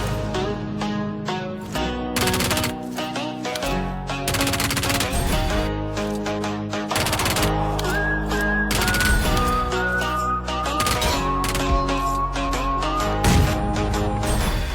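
Rapid automatic gunfire from a P90 in the Peacekeeper Elite battle royale game, loud bursts of shots repeating over nearly the whole stretch with game background music underneath.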